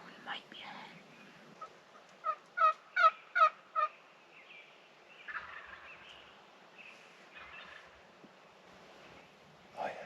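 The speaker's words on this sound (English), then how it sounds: "Is there 2 gobblers up there? Yeah, there's at least 2 gobblers." Wild turkey gobblers in a Wisconsin spring woods gobble in a rapid burst of several rattling calls, fairly distant, while hunters whisper quietly nearby.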